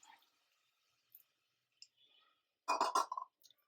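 Water is poured from a tea glass onto jaggery in a pan to melt it, a brief close splash after a few faint clicks and clinks of utensils in an otherwise quiet kitchen.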